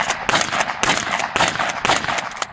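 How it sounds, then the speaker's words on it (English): Bursts of gunfire aimed at trees outdoors, loud and close, with several rapid rounds in quick succession repeating across the stretch and no voices. "I'll just shoot at all the trees"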